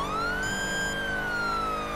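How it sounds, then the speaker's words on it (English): A Federal Signal 80K police siren in GTA V with the LSPDFR mod, on a slick-top Ford Police Interceptor Utility, rises and falls in one loud, steady wail with a continuous low rumble beneath it. "I did change the siren out. I put the 80K in, the federal signal 80K, just see how that goes."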